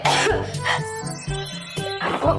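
Several harsh coughs in quick succession, close and fairly loud, with a throat-clearing sound among them and no talking.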